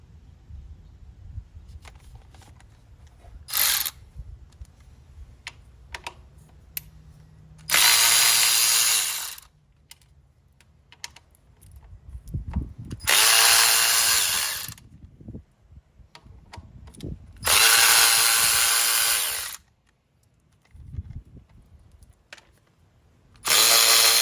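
Snap-on electric ratchet turning bolts, heard as several loud bursts of whirring separated by quiet pauses with small clicks and handling noises between runs.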